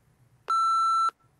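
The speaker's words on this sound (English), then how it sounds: "What's that beep? It's Maria. She just sent a text message back to me." A single sharp electronic beep from a phone signals an incoming text message, one steady tone lasting just over half a second, loud and clear against a quiet room.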